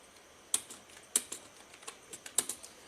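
Keystrokes on a computer keyboard while entering text in Microsoft Word, a few crisp, separate clicks at an uneven pace, close but fairly soft, with no talk.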